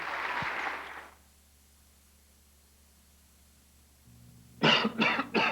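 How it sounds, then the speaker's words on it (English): A raspy breathy cough, then a pause of near silence, followed by a quick burst of two or three harsh coughs close by. "You've got a nasty, tickling, scratching, annoying cough from a cold."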